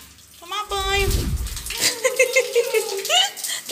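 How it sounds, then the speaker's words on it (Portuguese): A pet is bathed under a household shower, with a burst of running water in the middle, surrounded by close voices and a chattering, high-pitched speaking tone throughout. "Tá fugindo do chuveiro."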